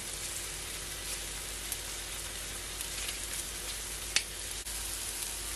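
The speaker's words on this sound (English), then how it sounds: "Just gonna saute the garlic for another 10 to 15 seconds" Garlic sautéing in a pan for a honey jerk salmon dish gives a steady, even sizzle throughout, with one brief sharp scrape or clink near the end and no voices.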